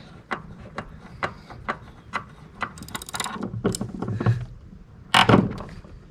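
Steering mechanism of a 1972 Mercedes-Benz 280SE being turned, giving a series of evenly spaced mechanical clicks and ratcheting knocks up close, followed by louder grinding clunks and a sharp metallic rattle near the end, with no talk.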